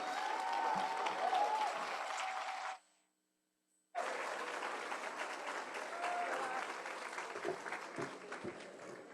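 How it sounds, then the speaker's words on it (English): An audience applauds participants at a business pitch competition: sustained clapping, then a sudden drop to near silence for about a second, then the applause resumes just as full and continues to the end. "please to give both our participants a round of applause"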